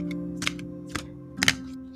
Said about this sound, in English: You hear that good card shuffling.